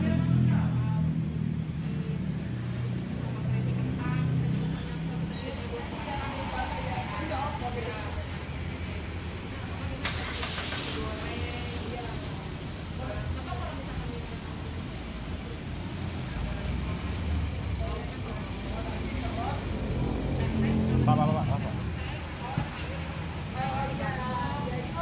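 A Mitsubishi Xpander Ultimate's engine runs steadily just after starting, a continuous low idle rumble filling the whole stretch at moderate, even loudness, with no other prominent sounds.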